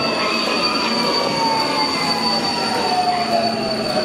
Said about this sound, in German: Auf der untersten Ebene, also am tiefsten, verkehrt die Metrolinie M2 mit einer Tiefe von 38 Metern unter der Erdoberfläche.